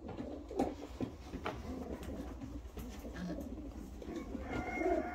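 An Israeli posta pigeon, a female, coos softly among other pigeon sounds in a loft, faint and distant with low murmuring throughout and no talking.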